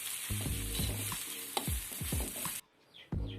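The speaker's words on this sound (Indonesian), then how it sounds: "Pastikan kentang merata semua. Agar merata, kita tetap mengaduk." Potatoes fry in a pan with a loud, close sizzle while a utensil stirs and scrapes them in repeated strokes; the hiss cuts off briefly near the end, then resumes.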